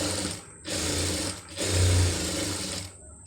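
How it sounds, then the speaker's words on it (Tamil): A sewing machine stitches cloth with piping in steady, close whirring bursts, pausing briefly twice before running on again. "நான் எப்படி இதை வந்து தைக்கிறேன் அப்படிங்கிறத வந்து பாருங்கள்"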